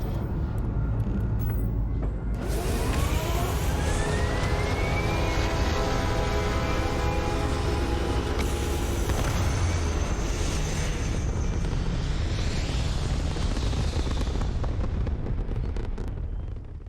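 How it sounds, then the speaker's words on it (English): Spaceship in a video game powering up and lifting off, a loud roaring thrust with a rising whine sweeping upward, building into a sustained, dense rumble that fills the whole stretch without speech. "Now time for a cinematic takeoff."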